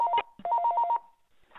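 A telephone rings in quick electronic trill bursts, two sets with a brief gap between them, moderately loud with a faint sound trailing after.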